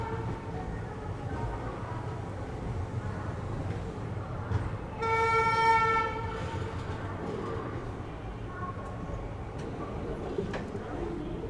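The 17022 Vasco da Gama–Hyderabad weekly express runs on after leaving Secunderabad, its carriages rumbling steadily. Partway through, a single long, clear horn blast sounds over the running noise.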